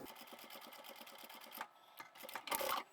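A sewing machine stitches along the top edge of a single piece of fabric, a rapid, even mechanical ticking close by, pausing briefly before resuming in a louder burst.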